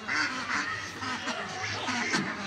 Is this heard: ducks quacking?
yes